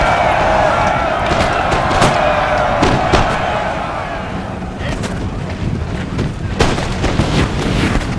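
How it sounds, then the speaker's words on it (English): Canister shot from cannons fires repeatedly in a Napoleonic battle video game, sharp bangs and cracks popping irregularly at close to middle distance over a continuous battlefield din, with a voice talking over it. "you can see the canister shot is starting to fire"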